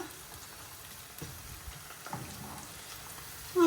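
Cabbage frying in oil with onion and salt gives a faint, steady sizzle, with a couple of soft stirring scrapes and a clatter at the very end.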